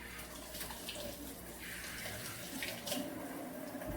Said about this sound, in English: Hand wash.